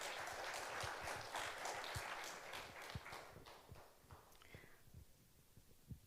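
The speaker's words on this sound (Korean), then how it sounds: "박수로 우리 모시도록 하겠습니다." An audience at a church family-life seminar claps to welcome a guest lecturer, with soft, dense applause that fades over a few seconds into scattered, faint claps, heard at a distance in a quiet hall.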